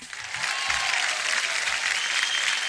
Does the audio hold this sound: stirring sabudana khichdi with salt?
no